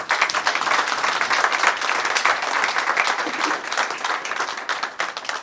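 A church congregation at a Good Friday service applauding together, a dense, loud, sustained burst of clapping that fills the room for several seconds.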